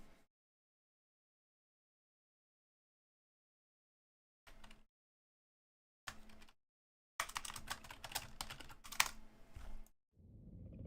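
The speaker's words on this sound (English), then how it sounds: "I was too slow at typing" Computer keyboard typing during a Total War: Warhammer 3 multiplayer tournament game, heard as short isolated bursts of key clicks followed by a longer flurry of rapid close taps, with near-silence between.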